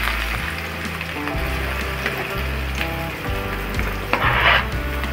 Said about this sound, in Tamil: வெங்காயம் நல்லா பொன்னிறமாக வதக்கணும்.